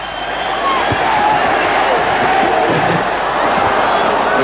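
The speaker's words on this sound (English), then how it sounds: "Crowd on their feet at the Garden" A basketball crowd at Madison Square Garden during a 1992 Bulls versus Knicks playoff game roars and cheers loudly and continuously, a dense sustained din with scattered whistles and shouts rising through it.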